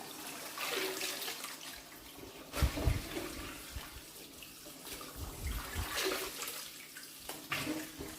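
Freshly harvested sorrel is swished and rinsed in a basin of clean cold water, producing uneven sloshing and splashing with a few sharper bursts of moving water, fairly quiet throughout.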